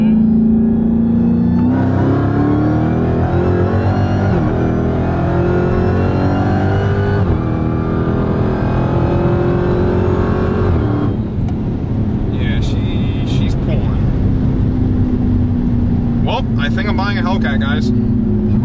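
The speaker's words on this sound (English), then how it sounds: "So y'all just saw my first ever drive in a full bolt-on Hellcat" A Dodge Hellcat with full bolt-ons and over 800 wheel horsepower roars loudly as it accelerates hard, its engine pitch climbing through quick gear shifts before easing off. People talk and exclaim over the engine throughout.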